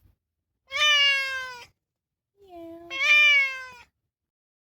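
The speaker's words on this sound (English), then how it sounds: "What's the matter? Meow. Meow. Meow." A house cat meows twice indoors, two loud, drawn-out plaintive cries close to the microphone with a short pause between them and a brief murmur from a person in between.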